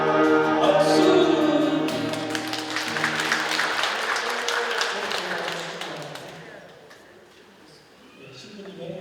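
Congregation clapping at a Catholic charismatic prayer meeting in a Jeju church, a dense burst of applause over lingering music and voices that thins out after several seconds.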